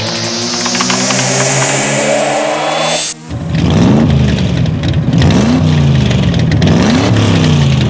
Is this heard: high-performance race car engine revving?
yes